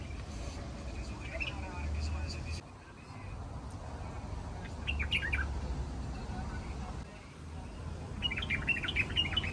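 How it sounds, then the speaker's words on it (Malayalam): Small birds chirp from nests high in a dense stand of large trees at a garden plant nursery, bright bursts of tweets rising now and then over steady outdoor rumble and people talking. "മേളിൽ ഇങ്ങനെ കിളികളൊക്കെ കൂട് വെച്ചിട്ട് ഇങ്ങനെ ഒച്ചയൊക്കെ ഉണ്ടാക്കിക്കൊണ്ടിരിക്കുന്നുണ്ട്"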